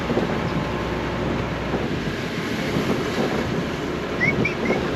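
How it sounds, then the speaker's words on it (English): A 4x4 vehicle driving through a wheel wash makes a steady, broad rumbling roar of tyres and spraying water, close and fairly loud throughout, with some wind buffeting on the microphone and no talk. "Good old wheel wash."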